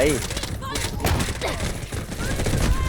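Pump-action M870 shotgun blasts in the shooter Delta Force, several loud booming shots in quick succession over dense in-game battle noise, with someone talking over the gunfire.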